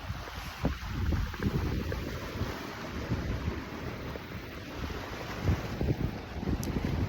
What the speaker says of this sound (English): It's so crazy how fast the water is going. It's like little waves.